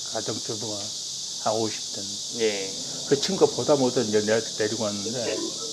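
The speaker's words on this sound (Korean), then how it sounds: "매미 소리가 혹시 들리실지 몰라서 문을 좀 닫을게요." Cicadas drone outside during a Korean indoor conversation, a continuous high buzzing that sits steadily under close, clear talking voices.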